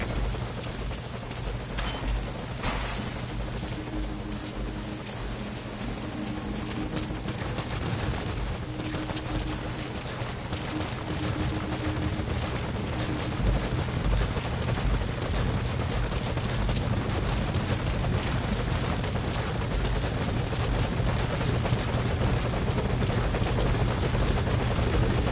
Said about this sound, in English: They can try to shoot down the chopper.